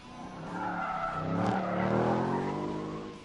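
A Ford Mustang RTR muscle car drifts with a long, loud tire squeal that swells and fades over about three seconds, engine roaring underneath.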